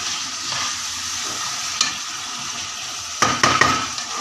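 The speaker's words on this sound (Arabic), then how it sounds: "ونقلب كده ببعض اهو." Liver and gizzards stirred and frying with pomegranate molasses in a pan, a steady close sizzle broken by a few sharp scrapes and clinks of the utensil against the pan near the end.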